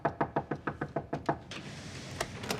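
Knocking on a door in a TV drama scene, about eleven quick, evenly spaced raps in a loud close run, then a pause with a few scattered lighter taps.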